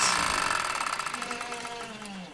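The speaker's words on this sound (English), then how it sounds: "turn off the machine and let the machine run out." A domestic sewing machine runs down after finishing a shirt sleeve seam, its steady mechanical whir slowing and fading over a couple of seconds, with a voice faintly present underneath.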